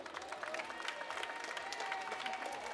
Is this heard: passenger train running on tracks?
no